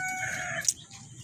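Free-roaming chickens in a rural provincial yard give a short burst of clucking and crowing-like calls, fairly faint and close, over light background noise.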